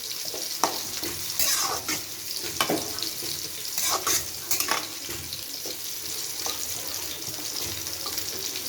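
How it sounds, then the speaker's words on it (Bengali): Hilsa fish and water lily stems simmering in a pan over medium heat, stirred with a steady soft scraping over a continuous gentle sizzle, with a few sharper clinks near the start and no talking. "মিডিয়ামে রেখে ভালোভাবে নেড়ে দিব"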